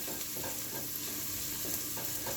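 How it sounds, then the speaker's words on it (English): An onion sautéing with a little salt in a pan for a chourico and peppers dish gives off a steady, close sizzle, with light stirring scrapes now and then and no talking. "I'm going to finish saute my onion for another 3 minutes"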